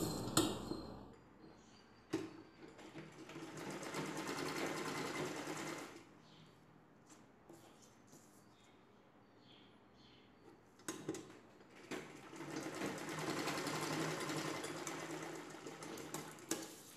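A sewing machine stitches saree blouse pieces laid crosswise. Two sustained runs of steady mechanical whirring are separated by a quiet pause, with a few sharp clicks between the runs. No talking is heard.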